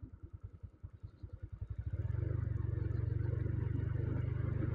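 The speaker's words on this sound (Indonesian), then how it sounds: "Jadi aman sih naik motor seperti ini masih ya" A motorcycle engine chugs in rapid pulses, then settles into a steady loud drone as it rides through flood water on a village road, with a watery, splashy wash beneath.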